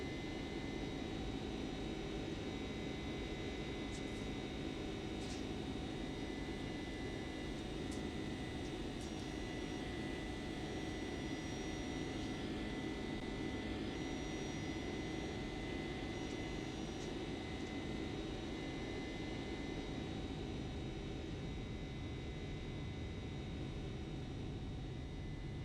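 Boeing 767-300 jet engines in a flight simulator game, a steady low roar with a constant whine on top, unchanging and moderately faint for the whole stretch with no talk.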